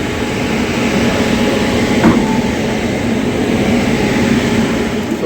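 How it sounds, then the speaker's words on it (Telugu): A locomotive couples onto the Basava Express at a railway station, heard as a steady loud rumble of idling diesel engine and rail noise, with a brief soft clank partway through. "So locomotive coupling."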